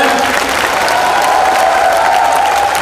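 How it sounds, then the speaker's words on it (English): Dense, steady applause from a large audience at a Skechers walkathon event in Mumbai, continuous clapping filling the space with faint cheering mixed in. "please give these 3 wonderful people on stage a big round of applause"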